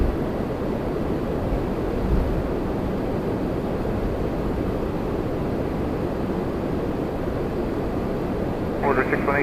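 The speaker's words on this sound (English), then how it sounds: "Another Porter Embraer E2." A Porter Embraer E2 airliner at Toronto Pearson airport gives a steady, broad jet roar at a distance. It continues unbroken while air traffic radio chatter and talk run over it.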